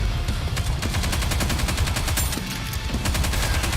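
Gunfire from the mobile shooter game Nikke is a loud, continuous rapid-fire stream of shots, fast and even like a machine gun, filling the whole stretch with no talk.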